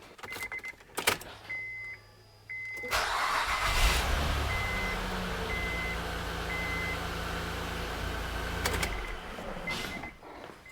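A 2003-2006 Acura MDX engine cranks and fires up after a valve cover gasket replacement, then settles into a steady, close idle that runs for several seconds before cutting off.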